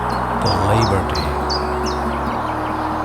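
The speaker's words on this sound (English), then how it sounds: "the birds are chirping" Birds chirp in nature near Frankfurt am Main on a bright spring holiday. A repeated sharp, rising call comes about every half second over a low steady hum, with no talk.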